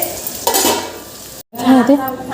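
Potatoes frying in a pan, with a close sizzle and spatula scrapes that cut out briefly, then return with clinks of utensils.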